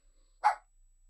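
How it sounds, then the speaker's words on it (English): A single short dog bark rings out, fairly close and loud, with near silence before and after. "I can't think with all this barking."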